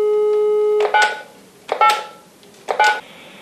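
A telephone number dialed on a phone: a steady dial tone, then three quick clusters of sharp DTMF keypad beeps separated by short pauses, loud and close, with no voices.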